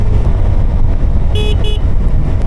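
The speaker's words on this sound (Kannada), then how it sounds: "ಈ ಗಾಡಿಯಲ್ಲೂ ಅದೇ ಥರ ಥ್ರಾಟಲ್ ಕೊಡೋಕೆ ಹೋಗ್ತೀನಿ" A brand-new Suzuki Hayabusa motorcycle running close by, a loud, deep, continuous engine rumble with two brief horn toots near the middle.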